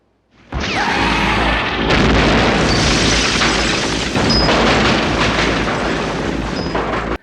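A fake Ferrari Testarossa blown up for a Miami Vice stunt goes off in a sudden loud boom, followed by a sustained roaring, crackling blast with deep rumble that holds steady for several seconds.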